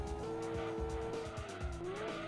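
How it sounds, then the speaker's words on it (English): Race car in Gran Turismo 2 sliding with squealing tires over a droning engine, a sustained screech that wavers in pitch as the slide goes on. "Whoa, that bounce. Put us into a big slide."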